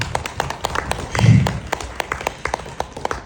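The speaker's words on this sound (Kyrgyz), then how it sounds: "Аларга дагы кол чабуулар болсун" An audience at a business talk gives scattered applause, a string of sharp individual claps in an uneven rhythm, with a brief low murmur partway through.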